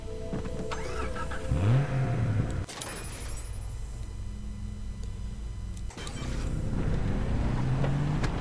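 In the Far Cry 3 Blood Dragon video game, a car engine starts and revs with rising growls, drops briefly into a quieter idle hum, then revs up again loudly.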